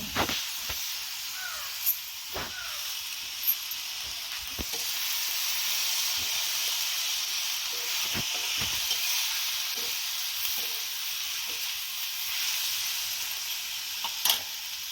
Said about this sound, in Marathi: आता डाळ टाकते बघ चांगला हलवून घेतलाय आता